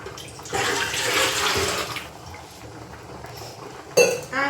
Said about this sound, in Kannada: ಇಡ್ಲಿ ಪಾತ್ರೆಗೆ 1 ಚರಿಗೆ ನೀರು ಹಾಕ್ತೇನೆ ನಾನು.